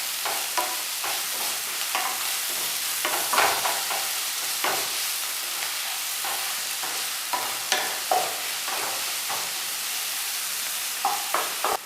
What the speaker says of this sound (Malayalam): ഇനി നമുക്ക് ഇതൊന്ന് നന്നായിട്ട് ഇളക്കി കൊടുക്കാം.